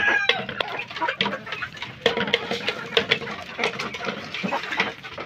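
A mother hen clucks near a game fowl setting, with repeated short clucks in an irregular rhythm and some other birds calling around her.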